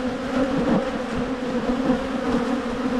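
A dense, steady buzz of many honey bees swarms around an opened hive in an Australian apiary, loud and continuous throughout with no other sounds.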